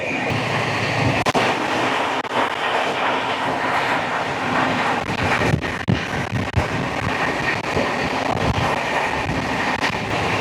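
Kaziranga Express passenger train running on the rails between Kolkata and Guwahati, a loud, steady broadband rumble with rattling wheel clicks and occasional sharp clanks throughout.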